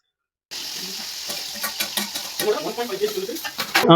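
Cinnamon, cloves, cardamom and biryani masala fry in oil in a pot, a close sizzle with scraping stirs that grows busier toward the end after a silent start, with faint voices underneath.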